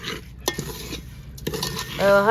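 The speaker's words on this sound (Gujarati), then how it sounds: "ફેરવી નાખવાનું એટલે બધે મિક્સ થઈ જાય" Carrot pickle (gajar athanu) is stirred with a spoon to work the spices in: several clinking scrapes against the pot, close and fairly loud, with a brief squeaky scrape at the end.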